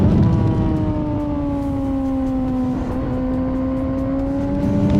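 A 2024 Honda CBR600RR sport motorcycle engine on a racetrack holds a steady, loud, high-revving whine with rising and falling tones, droning continuously throughout without any pauses or voices.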